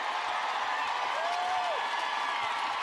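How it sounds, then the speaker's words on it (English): A WNBA arena crowd roars in a steady, dense wash as Alyssa Thomas records a triple-double in the Connecticut Sun vs Phoenix Mercury game. The cheering holds at one level throughout, with a faint whistle rising above it midway. "Crowd knows it."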